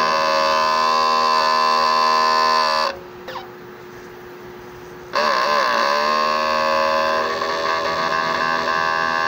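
A 30 cm DTF printer runs its head cleaning cycle, giving a steady close mechanical hum and whine that drops away briefly partway through, then resumes at full level.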